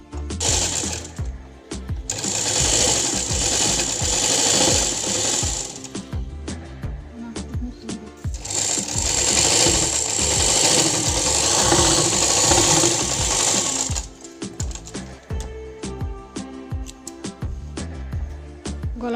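A sewing machine stitches the neckline of a baby frock in two long close bursts of rapid rhythmic whirring and clatter, with slower ticking pauses between.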